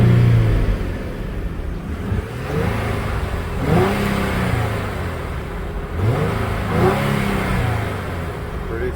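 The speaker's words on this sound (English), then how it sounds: "Pretty smooth old V6." A 2007 Infiniti M35 Sport's 3.5-litre V6 idles with a steady low rumble, then revs up in a few short bursts that rise and fall, fairly close.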